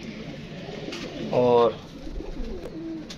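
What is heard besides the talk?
pigeons cooing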